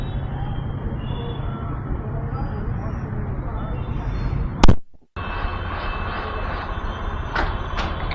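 Stuck traffic at Mankoli Naka gives a constant low rumble of idling trucks and vehicles, a loud thump and brief dropout midway, then a steady high reversing beep over the engine drone.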